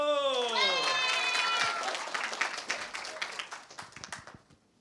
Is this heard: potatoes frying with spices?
no